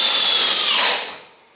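A powerful drill drives a screw into wood for a reloading bench, a brief high whine with grinding bite lasting about a second before trailing off, close and alone.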